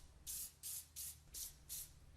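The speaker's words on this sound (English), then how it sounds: "take a little rust check and spray it on a few of the parts" Five short hissing bursts of Rust Check aerosol sprayed onto Hyundai Sonata brake parts, close up, evenly spaced with brief pauses between them.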